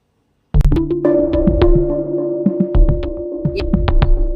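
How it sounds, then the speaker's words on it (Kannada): A mixer grinder grinds masala ingredients with added water for pulao. It starts abruptly after a moment of silence, then a steady, loud motor whine runs on with rattling knocks and clatter from the jar. "ಈಗ ಇದಕ್ಕೆ ಸ್ವಲ್ಪ ನೀರನ್ನು ಸೇರಿಸ್ಕೊಂಡು ರುಬ್ಕೊಂಡು ಬರ್ತೀನಿ"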